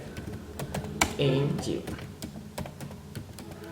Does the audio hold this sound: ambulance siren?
no